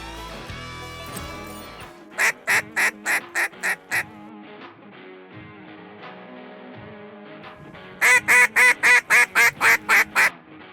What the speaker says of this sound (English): let's talk about the scenario of late season duck calling